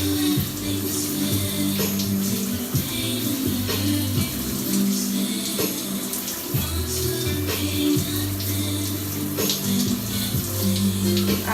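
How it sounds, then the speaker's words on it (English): Water is poured or sprayed onto tightly coily hair during styling, a steady watery splashing with a tonal hum running underneath throughout. "So now I'm going to add more water to this in this subsection."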